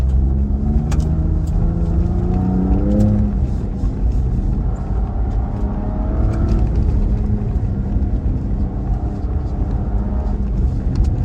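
A 2020 Ford Raptor with turbocharged engine drives in Baja mode with 4-wheel drive engaged, giving a loud, steady in-cabin engine drone and road rumble that shifts pitch as it accelerates throughout.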